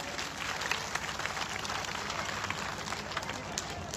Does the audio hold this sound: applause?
yes